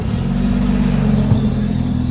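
A car engine runs loud and close, a steady rumbling drone with a slight swell, as if revved lightly, and no talking.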